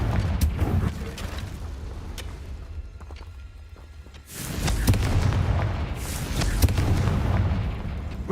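A Confringo fire spell in Hogwarts Legacy sets off a loud, booming fiery explosion that fades, then bursts again into a sustained roaring rumble with crackles, close and dominant.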